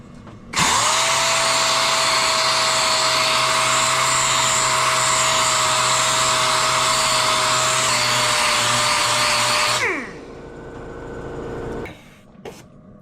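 Dual action sander smoothing a dirt bike engine casing, a loud steady whine running continuously for about nine seconds before spinning down, then a brief quieter burst near the end.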